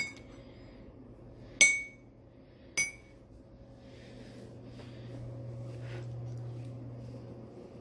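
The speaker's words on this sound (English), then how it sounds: "I'm going to stir my coffee so that, like, it's, like, all, like," A spoon stirring creamer into coffee gives two bright clinks against the mug, then fades into faint soft swirling over a quiet low hum.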